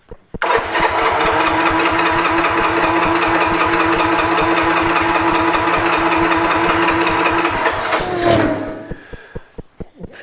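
A Honda TRX 125 ATV that lost spark cranks and fires, its small engine chugging loudly and rapidly up close for several seconds before dying out, leaving a few slowing pulses.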